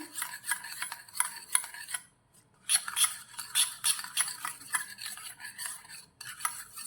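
A spoon stirs a small amount of sweet food colouring into milk in a bowl, scraping and clinking in a quick steady rhythm, close and clear, with a short pause partway through.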